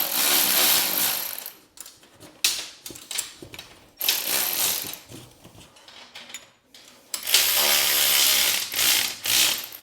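Bolts being tightened down on a TMR Customs welding fixture table give a series of metallic ratcheting clicks in close, loud bursts, separated by brief pauses and quick clanks.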